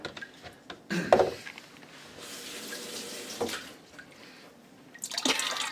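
Tap water runs into a kitchen sink with a clogged garbage disposal in short bursts, splashing fairly quietly with brief pauses and a stronger rush at the end.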